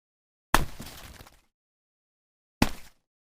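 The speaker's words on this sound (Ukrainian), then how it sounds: "Так звучить гра у сніжки." Snowballs thud in a snowball fight, two separate soft impacts about two seconds apart, the first followed by a short crumbling scatter, close and fairly quiet.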